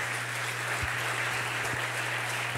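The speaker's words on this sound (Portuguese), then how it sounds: "Dá uma salva de palmas para o Senhor Jesus" A church congregation claps steadily in a soft, even wash of applause heard from some distance, with a low constant hum running underneath.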